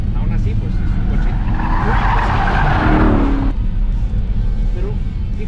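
A heavy all-wheel-drive performance SUV weighing over two tonnes accelerates hard, a loud broad roar with rising engine pitch and tire noise, close and continuous, with no voices heard.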